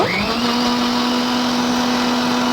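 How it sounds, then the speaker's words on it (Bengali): A blender runs loud and steady as it blends watermelon sharbat, its motor rising quickly to a constant high whine that holds throughout. "এরপরে খুব সুন্দর করে ব্লেন্ড করে নিব"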